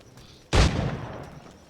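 A single loud gunshot booms during target practice in Assassin's Creed IV: Black Flag, with a sharp blast followed by a rolling echo that fades over about a second.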